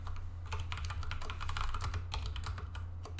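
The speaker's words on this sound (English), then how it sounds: "I got a mechanical keyboard. It is quite pristine, if I do say so. It's an IKBC model, Cherry MX Brown." Steady, rapid typing on an IKBC mechanical keyboard with Cherry MX Brown switches, heard close up. The key clicks come in quick, even bursts over a low background hum.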